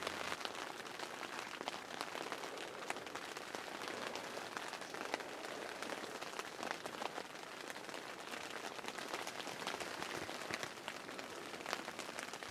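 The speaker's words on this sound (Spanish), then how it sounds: "Se oye muy suave" Gentle, steady rain patters evenly on a closed tent in winter at Lago Arareco in Chihuahua, Mexico, a soft continuous hiss of drops with no voices.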